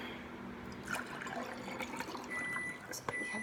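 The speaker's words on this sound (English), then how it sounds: "just pouring some water" Water poured into a glass in a home kitchen, a soft, steady trickle and splash rising faintly in pitch as it fills, quiet and close with no talking.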